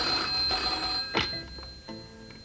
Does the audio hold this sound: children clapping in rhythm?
no